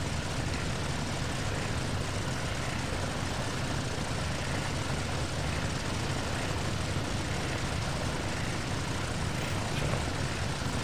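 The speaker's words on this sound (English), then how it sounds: "So, engine 3 is purring nicely" A PMDG DC-6 piston engine, number 3, runs steadily in the X-Plane 11 flight simulator, a continuous dense propeller drone holding an even level throughout with no talking.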